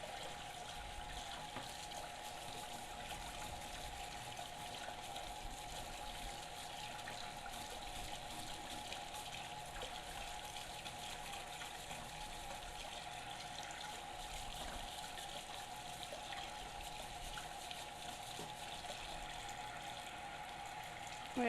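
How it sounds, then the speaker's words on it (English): Water from a running kitchen tap pours steadily as a dough whisk is rinsed, a faint, continuous gush that stays even throughout with no talk. "I'm gonna clean off my dough whisk real quick so it doesn't get all impossible to clean."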